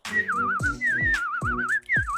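Animated cartoon whistling, a melodic warbling tune with a wavering pitch in short repeated phrases, each punctuated by a low thump, loud and close with no talking.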